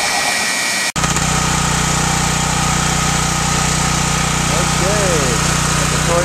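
A small engine runs on wood gas produced by a gasifier, idling steadily with a continuous hum and light mechanical vibration close by, after a brief interruption at the start; no speech over it.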